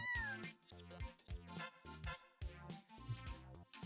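A calico kitten stuck up a tree branch in the video game Fate/Hollow Ataraxia meows in a series of clear, close mews with short gaps, heard over light background music.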